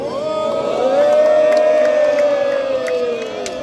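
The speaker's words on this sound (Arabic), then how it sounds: "يلا شباب شجعوا شجعوا شجعوا" Crowd at an outdoor event in Souq Waqif, Qatar, cheering and whooping loudly together, a sustained swell of shouts that peaks in the middle and stays strong throughout.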